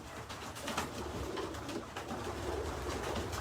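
Racing pigeons coo softly in a pioneer race loft, low throaty calls repeating over a steady background hum, several birds overlapping at moderate distance.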